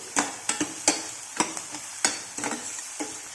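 Fish egg curry ingredients fry in a pan, a low sizzle under a series of crisp, evenly spaced stirring scrapes, about ten strokes, heard close with nobody speaking.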